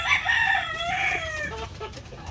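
White Leghorn hens on a farm cluck and squawk in a loud, close cluster of overlapping calls, with no talk over them.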